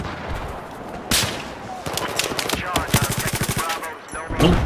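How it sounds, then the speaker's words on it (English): Battlefield 4 gunfire during a 64-player Rush match on a Dragon's Teeth map: rapid bursts of automatic fire and heavy impacts rattle on continuously, close and loud, with a dense battle mix behind them. "Hit the point with mortars."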